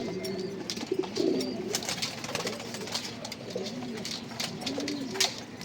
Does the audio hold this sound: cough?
no